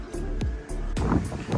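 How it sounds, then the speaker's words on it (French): Wind buffets a microphone outdoors at a car lot in rain, heavy low rumbling gusts with bursts of broadband noise, no clear voices. "il y a un peu de vent, il pleut"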